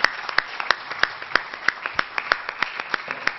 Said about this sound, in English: I can only believe if you will give a big clap to this group which has done.